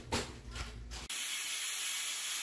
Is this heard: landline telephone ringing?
no